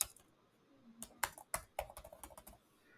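A name is typed on a computer keyboard in a quiet room, with a run of irregular, close key clicks that start sparse and quicken into a quick cluster of taps.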